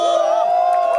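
A crowd cheers at a 2017 street busking show on Gunam-ro in Haeundae, Busan, for the girl group BP Rania. The burst of loud, close cheering lasts about a second and carries a sustained whooping tone.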